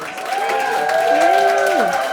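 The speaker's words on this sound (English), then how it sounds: "That can be the applause." A short burst of crowd applause used as a sound effect, a continuous dense patter with sustained tonal sounds running over it.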